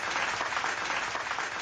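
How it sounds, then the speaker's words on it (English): A round of applause, a continuous patter of many hands clapping at an even level, with no voices over it. "Y'all hear the round of applause."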